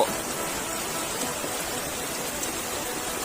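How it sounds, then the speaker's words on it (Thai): Rain falls steadily after three straight days of downpour in a Thai village, a dense, even hiss of drops that stays constant and fairly close throughout, with no voices. "ฝนตกมาสามวันติดแล้ว"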